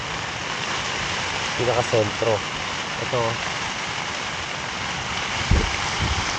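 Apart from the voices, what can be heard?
heavy rain on a tent while camping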